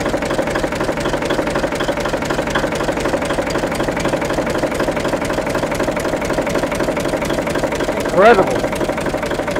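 Vintage tractor engine running with the tappet cover off, a steady rhythmic knocking idle close up throughout, with a brief spoken exclamation near the end.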